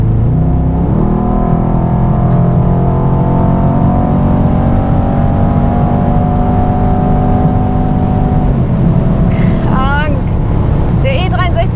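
A Mercedes-AMG E63S Edition 1 engine revs hard under acceleration, a loud sustained growl that climbs, holds steady and then drops off, with a voice briefly speaking at the end.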